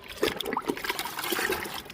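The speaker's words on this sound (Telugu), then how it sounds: "జడబంతి మొక్కలకి లిక్విడ్ ఇస్తున్నాను" Rice water liquid trickles from a container onto the soil of potted marigold plants, a brief, close, gentle pour with soft splashing and dribbling.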